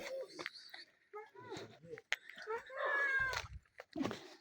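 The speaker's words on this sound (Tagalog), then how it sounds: "Masama yung pusa, oh." A cat following people on a mountain hike meows repeatedly in drawn-out, wavering cries close to the listener, with people talking in between the calls.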